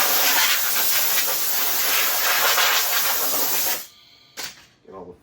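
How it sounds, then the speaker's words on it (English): A lawn mower's starter shell is blasted with compressed air, a loud steady hiss that runs for several seconds, then stops, followed by a couple of short bursts. "Just blow this out with compressed air."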